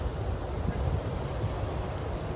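Steady low rumble of a train passing nearby, a dense continuous roar filling the whole stretch with no clear breaks.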